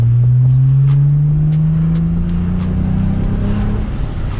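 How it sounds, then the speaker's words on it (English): A Hyundai Tiburon's engine rumbles with a deep, steady exhaust drone, loud and close, its pitch easing slightly as it holds a cruise. "those exhaust clips that you just heard, right? It sounds really good, okay?"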